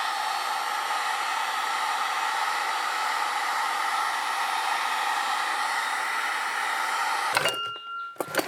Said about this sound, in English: Put your heat gun going.